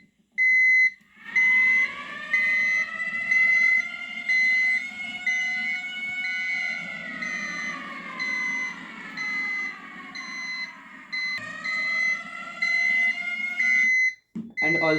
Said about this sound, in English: press this button to circulate an siren alarm through the minority areas